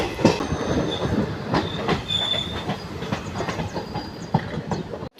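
A train rolls along the rails, heard from on board: a steady rumble with rhythmic wheel clacks and occasional faint squeals.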